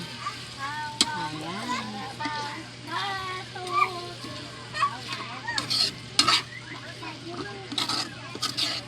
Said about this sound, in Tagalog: Haluin ang haluin